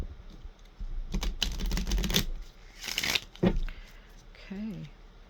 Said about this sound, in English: I'm just going to shuffle them a little bit more